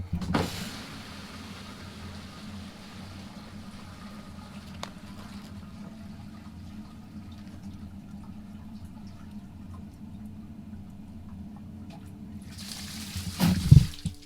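Water from a high-flow 3/4 inch garden hose pours steadily into a 5-gallon jug, a continuous rushing fill for about twelve seconds that cuts off near the end with a brief louder burst.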